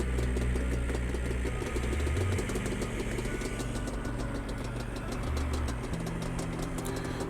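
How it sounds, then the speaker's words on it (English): A Yamaha Banshee engine runs at high idle during carburetor syncing, a loud, steady, rough rumble with slight fluctuations in pitch, close by and continuous throughout. "with the idle screws up, it actually started this time and stayed running"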